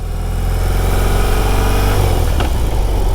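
A 2024 BMW R18 motorcycle engine runs loud and close, a steady deep rumble with a slight rise in pitch toward the end, with no talk.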